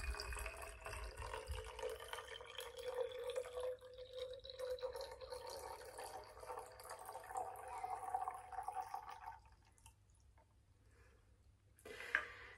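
Fertilized water poured by hand without a funnel into a small plant pot, a steady rising trickle that fills for about ten seconds before stopping, near and fairly quiet.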